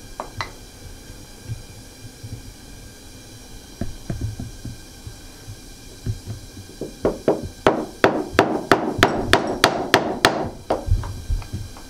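A chisel is hammered to chop a mortise in wood the old-fashioned way, starting as scattered taps and building into a fast, loud run of sharp regular strikes before easing off, with no voices.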